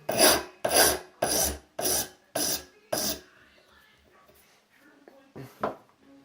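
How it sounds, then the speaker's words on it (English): A file is worked across the top of a rod clamped in a vise, giving six evenly spaced, close rasping strokes followed by quiet with faint handling noises and one last short scrape. "File the top flat."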